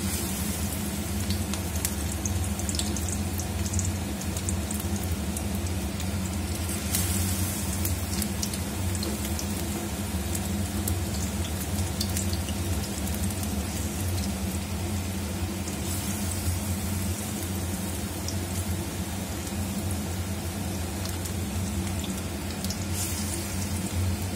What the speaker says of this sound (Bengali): আমি এটা রিফাইন তেলেই ভেজে নিচ্ছি।